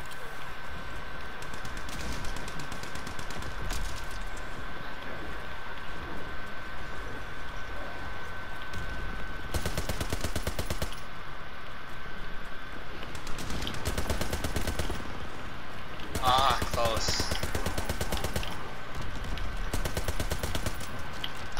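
Rapid automatic gunfire from Call of Duty: WWII Zombies comes in several sustained bursts over a constant game background hum, loud and close, with a few sharper sounds between the volleys.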